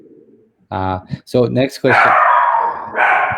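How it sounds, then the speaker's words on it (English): A dog barks in sharp bursts close by while someone talks over it. "I'm sorry about my dog's going crazy over there."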